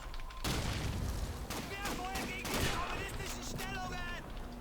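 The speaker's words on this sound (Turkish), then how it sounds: "Çok mermi yiyorum. Bomba atıyorlar." Dense gunfire and heavy booms of grenade explosions in the World War II shooter Call of Duty 2, layered bursts over a rumbling low end, with a voice talking over the battle.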